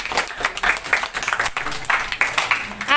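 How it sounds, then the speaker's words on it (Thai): A roomful of school students claps for a classmate, a steady patter of hands in short, uneven bursts, with a few voices mixed in. "ปรบมือให้น้องเกสหน่อย"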